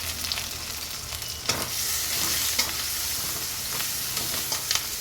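Chopped green chillies frying in a pan for a drumstick, tomato and egg curry, a steady close sizzle with occasional spoon scrapes and stirring clicks, no talk.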